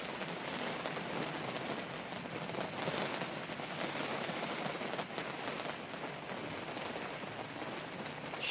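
Heavy rain from Storm Kathleen pours down at Manchester Airport in a constant, dense hiss of drops, broadband and unbroken, with no voices over it.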